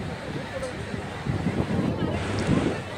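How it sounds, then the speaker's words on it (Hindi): Ocean waves wash onto the long shore of Marina Beach in Chennai, a continuous surging rush mixed with strong wind buffeting the microphone. "ये देखिए किनारा कितना लंबा है और लहरें कितनी तेज़ी से आ रही हैं"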